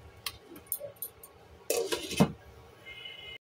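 A lid goes onto a cooking pot with a few metallic clinks and a louder clattering set-down, separated by quiet stretches.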